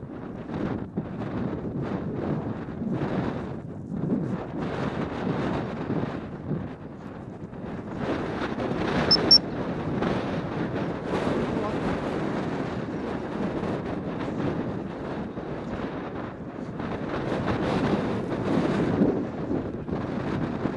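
Steady wind roars and buffets the microphone on an open upland fell, a continuous broadband rush with gusts swelling and easing throughout, loud and close with no other sound standing out.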